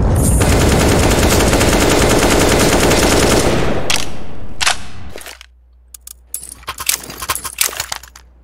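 Rapid automatic gunfire in a Counter-Strike competitive match, loud and sustained for about four seconds, then a few scattered shots and clicks over quieter game ambience.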